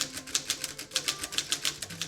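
A manual typewriter clacks out a quick, regular run of sharp keystrokes, close and fairly loud, with no talking.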